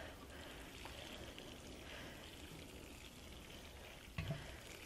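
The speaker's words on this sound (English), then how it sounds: "we're going to water it on the floor down here" Water poured onto freshly planted potting soil, a steady soft trickling and soaking sound throughout, faint and close with one small bump near the end.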